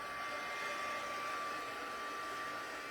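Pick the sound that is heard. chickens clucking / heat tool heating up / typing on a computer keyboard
heat tool heating up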